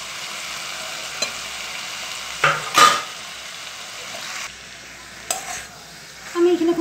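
Shrimp stirred into bottle gourd and potatoes cooking in a pan, a steady low sizzle with a few brief scraping stirs and clatters from the utensil.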